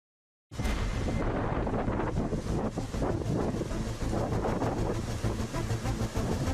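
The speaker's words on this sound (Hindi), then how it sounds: "तेज हवाएं चल रही हैं, समंदर में ऊंची लहरें उठ रही हैं।" Strong winds of cyclonic storm Ditwah batter the coast along the Bay of Bengal, a loud, steady roar of gusts buffeting the microphone with no break, rough sea surging underneath.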